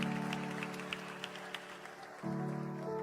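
A church congregation applauds during a sermon, a steady patter of clapping with a sustained tonal drone beneath, fairly faint, with a brief shift in the background tone partway through.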